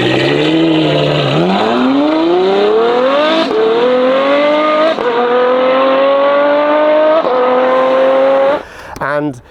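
A tuned Novitec Ferrari F12 N-Largo with a loud aftermarket exhaust roars close by, its engine climbing through several sustained revving pulls with brief gear-change dips before it cuts off sharply at the end.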